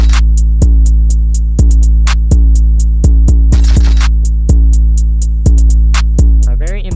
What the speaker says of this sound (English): all you really need to do is add some hard drums